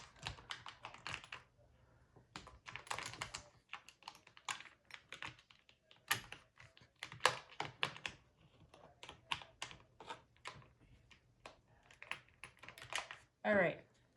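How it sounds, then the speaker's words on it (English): Three dice rolled for a cash-stuffing savings challenge: a series of quick, sharp clatters and taps near the mic, scattered across the clip, with a louder rattle close to the end. "I'm going to roll 3 dice just to make it fun"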